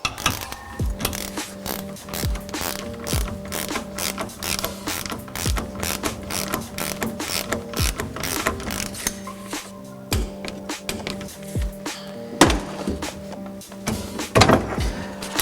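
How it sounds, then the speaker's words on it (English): Torque wrench ratcheting a nut to 17 foot-pounds during assembly of Fox Evol shocks for a YFZR 450 quad: repeated close clicking ratchet strokes in irregular bursts, with small metallic clanks and handling noises between them. "We're going to torque this nut to 17 foot-pounds."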